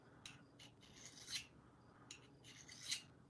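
A Corona carbide sharpener is drawn along a blade edge. It gives faint, scraping rasps in short bursts, several strokes at a time with brief pauses between them.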